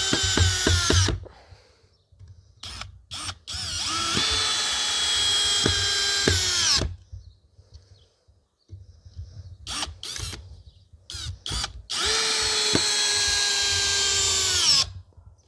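A Parkside Performance PBSPA 12 C3 cordless drill driver fitted with a long bit drives screws in several bursts, each a high whining motor run with pauses between, close and loud with no talk.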